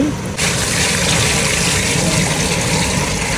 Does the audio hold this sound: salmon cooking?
no